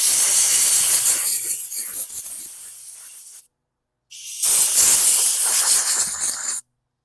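Compressed air blasting out the carburetor bowl of a 2018 Hyper Tough lawn mower, two loud close hissing bursts of a few seconds each, separated by a short pause.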